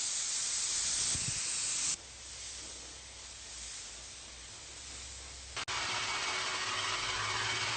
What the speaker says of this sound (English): I use a blow dryer to set the color and make sure the dye adheres perfectly to the leather